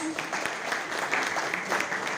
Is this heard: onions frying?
no